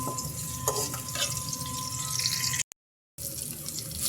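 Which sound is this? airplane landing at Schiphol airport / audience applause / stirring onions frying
stirring onions frying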